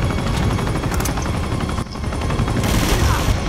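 Gunfire in the video game Uncharted 2: Among Thieves, heard as a dense, continuous barrage of rapid shots over a loud mechanical roar, steady and close throughout with a brief dip midway.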